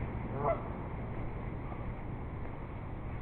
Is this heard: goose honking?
yes